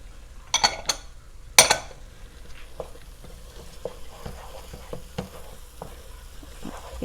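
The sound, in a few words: stirring chicken pot pie filling in pan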